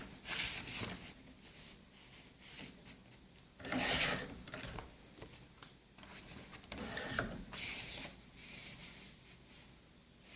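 Paper being trimmed for a file folder pocket, a close rasping slide in several separate passes, each a second or so long, with short pauses between them.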